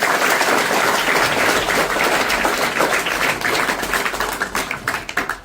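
A school audience of children and staff claps to welcome a visiting spiritual teacher, a dense, continuous wash of many hands applauding close and loud, thinning slightly toward the end.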